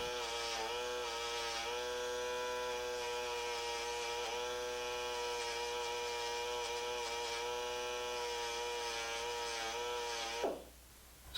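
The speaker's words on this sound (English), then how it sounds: "I'm using a sanding tube on a die grinder" Die grinder with a sanding tube smoothing the edges of a copper ornament, a steady high-pitched motor whine with a rich buzzing tone, running continuously and close, then winding down sharply at the end.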